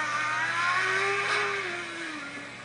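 A Formula Student race car at an endurance event sweeps past on the circuit into a hairpin, its engine note rising and then falling with a Doppler sweep, loud and close, with no talk over it.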